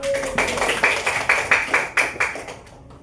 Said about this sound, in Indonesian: Tepuk tangan untuk Adit.